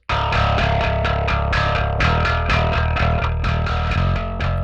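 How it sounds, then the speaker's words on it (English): An aggressive amp-style distortion effect, focused on the mid-range, applied to a guitar in a mix, chugs in rhythmic palm-muted bursts with heavy low-end hits, loud and driving with no voices. "This is a very aggressive amp style distortion, only in the mid-range between 600 Hz and a"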